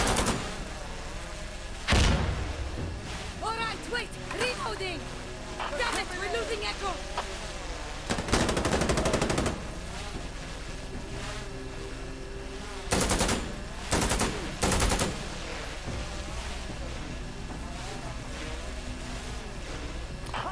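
Gunfire in the tactical shooter game Insurgency: Sandstorm, with several sharp bursts of shots standing out loud from a steady background of battle noise, and someone talking over parts of it.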